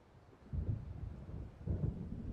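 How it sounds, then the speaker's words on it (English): Low rumbling thunder of an approaching storm in the game Alan Wake, two deep rolling swells heard at a distance, fairly quiet and without speech. "It seems there's a storm coming."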